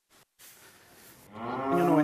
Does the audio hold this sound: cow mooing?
yes